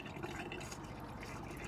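Water bleeds through the internal pump of a 2020/2021 Swift Elegance caravan, a quiet continuous rushing and trickling flow with no talk.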